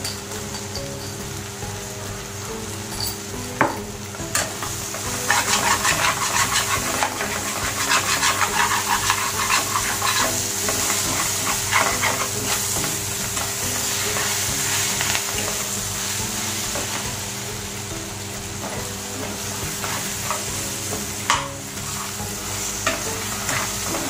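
Onion, tomato and masala sauté in a pan while being stirred, a steady close sizzle with scraping stirs and occasional sharper clinks running throughout without speech.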